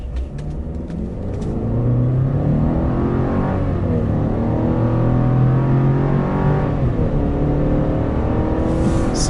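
A turbocharged pickup truck in 4 auto accelerates hard from a start, engine roaring loud and close as its pitch climbs through several gear changes, with brief clicks at the start.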